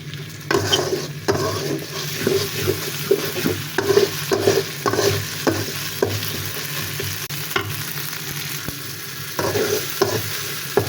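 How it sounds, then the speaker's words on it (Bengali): Ginger and garlic paste fries in a pan, a continuous close sizzle broken by repeated stirring scrapes and clinks of a spoon, with no voices. "আদা রসুনটাকে আমি হালকা একটু ভেজে নিচ্ছি যাতে আদা রসুনের গন্ধটা না থাকে"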